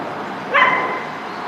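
A dog gives a single brief, high bark outdoors near a large residential lot, set against faint background noise.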